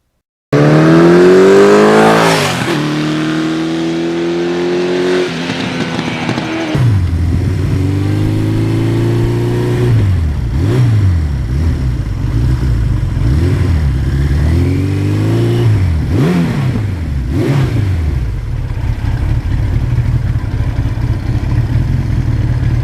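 A 1982 Suzuki GS1100E motorcycle is ridden on a day with wet leaves. Its engine is heard up close over roaring wind as it revs and shifts through gears in repeated rising sweeps, with steady loud rumble throughout.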